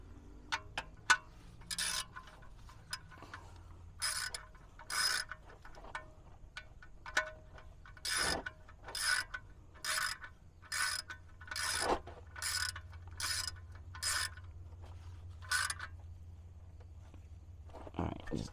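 A hand ratchet tightens a bolt during a 50-hour service on a Kubota BX23S tractor, giving a series of close, regular clicking bursts with short pauses between strokes and no talk.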